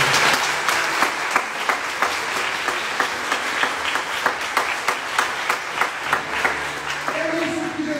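Church congregation applauding at a Catholic Mass led by a priest, steady broadband clapping with sharp rhythmic claps standing out near the front, ending with a voice beginning to speak over the applause.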